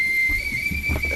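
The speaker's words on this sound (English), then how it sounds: "Oh, there's a man whistling down here." A man whistles outdoors with a single sustained, steady high tone lasting about a second, faint rumbling wind or handling noise underneath.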